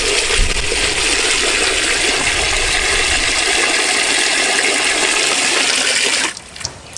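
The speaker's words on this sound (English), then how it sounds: "Put some water in, and with clean hands, or if you've got dirty hands, this washes them anyway." Water gushes steadily into rice in a cast-iron potjie pot, a loud continuous pour close by that stops abruptly near the end, followed by a few light splashes.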